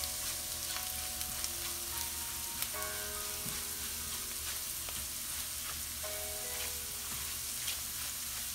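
Salt and turmeric fry in a pan with lentils for a zucchini bhaji, a constant low sizzle with occasional stirring scrapes and faint clinks, no talking.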